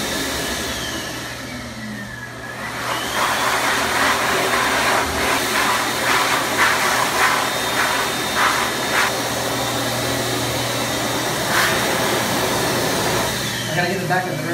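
A blower is used to dry hair at a campsite. It gives a loud, continuous whooshing drone whose pitch shifts as it starts up and as it moves, and talk can be heard faintly beneath it.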